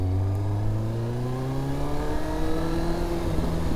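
A Kawasaki ZX-9R sport motorcycle engine revs steadily during a wheelie attempt, a close, continuous rising whine with strong harmonics and no talk.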